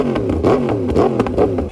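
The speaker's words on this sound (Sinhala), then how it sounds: "මගේ personal favorite exhaust sound එකක් තමයි Yamaha R1 කියන්නේ" A 2019 Yamaha R1 1000cc motorcycle revs close up through its exhaust, several quick throttle blips rising and falling in pitch in a rough, loud rhythm.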